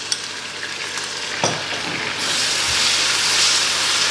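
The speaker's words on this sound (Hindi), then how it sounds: "पेस्ट शामिल करके इसको भी प्याज के साथ यहाँ पे थोड़ा सा भूनें।" Ginger-garlic paste hits onions frying in a pan, and after a brief clatter the sizzle swells into a loud, steady, close hiss with a couple of soft stirring knocks.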